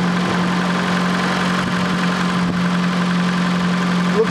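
A Fiat Panda 4x4 engine idles after timing belt work, giving a steady, close, even hum with a constant low drone and no talking.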